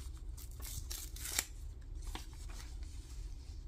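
Paper strips torn by hand, a few quick, close, dry rips and rustles at moderate volume with no talking.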